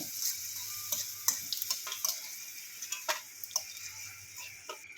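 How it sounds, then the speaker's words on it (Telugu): Garlic cloves frying in a little oil for onion pickle, giving a quiet, steady sizzle with scattered light ticks and crackles and no talking. "వెల్లిపాయలు వేస్తున్నా కొంచెం నూనెలో"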